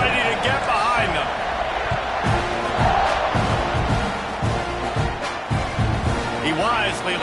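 Football stadium crowd roars at kickoff as a broadcaster talks over it, the cheering a dense, steady wash with some thumps and shouts rising through it.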